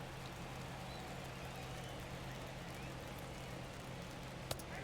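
Steady rain falling in the MLB The Show 21 baseball video game during a Yankees ALCS broadcast, a constant even hiss of drops throughout with a faint low hum and one brief sharp tick near the end.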